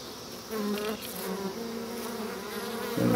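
Honeybees buzz around an open hive frame: a close, steady, droning hum that holds through the whole stretch with shifting pitch, and no talk over it.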